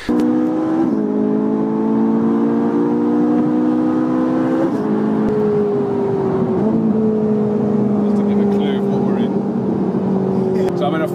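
A Ferrari 458 cruising on the M4 motorway, its engine a steady, loud drone with gear-change steps in pitch, running continuously with no speech over it.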